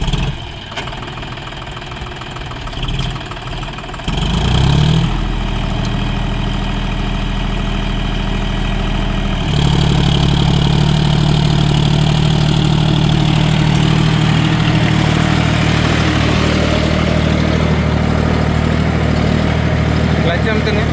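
A John Deere 5050D Gear Pro 4WD tractor in low first gear powers a Shaktiman Hercules rotary tiller through the PTO at about 1500 rpm. Its loud, steady diesel drone swells and deepens partway through, then holds a heavier, even roar.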